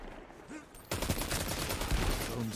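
Rapid gunfire in an online shooter video game, a sudden dense fusillade of shots that starts abruptly and keeps going close and loud.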